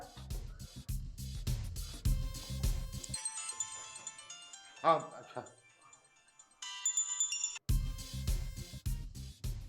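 A phone ringtone plays a bright repeating melody in the middle, bracketed by people talking, with a brief voice heard during the ringing.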